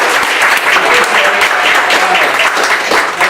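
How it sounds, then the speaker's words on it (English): Loud, dense applause from an audience at a Bible bowl quiz event, sustained and steady throughout. "I think we need to give John a round of applause"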